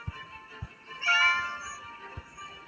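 A single short cat meow in the Scary Teacher 3D video game rises briefly in the middle, faint and close, with a few soft clicks and taps around it and no speech.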